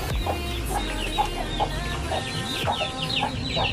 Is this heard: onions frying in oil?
no